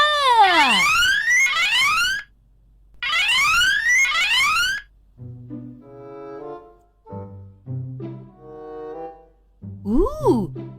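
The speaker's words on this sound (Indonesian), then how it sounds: "Alarm Baby Budi berbunyi." An electronic alarm rings in two loud bursts of rising, sweeping tones, each about two seconds long. After it stops, talking follows, with music-like tones under it.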